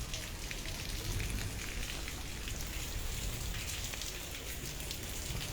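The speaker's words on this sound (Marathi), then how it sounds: "चांगल्या दर्जाने पाऊस पडत आहे, म्हणजे रिमझिममध्ये." Light drizzling rain falls steadily over a town area near mango trees, a continuous soft, even patter of drops heard alone throughout.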